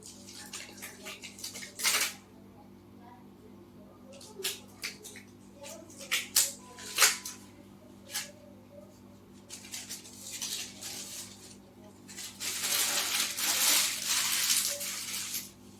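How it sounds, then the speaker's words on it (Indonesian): Hands washed under a running tap after a physical examination of the digestive system, with water splashing in bursts and a longer steady rush toward the end, fairly close with a low background hum. "Cuci tangan."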